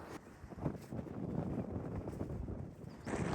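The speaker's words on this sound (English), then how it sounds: "Really starting to get windy" Wind gusts blowing outdoors on a cold winter night, a steady broadband rush buffeting the microphone with rising bursts near the end, loud and close with no voices.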